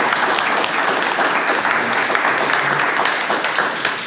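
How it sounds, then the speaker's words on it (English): An audience at a county infrastructure bank kickoff event breaks into dense, steady clapping, a loud sustained round of applause close by that fills the whole stretch without letup before easing slightly at the end. "I think we should give them a round of applause for thinking forward."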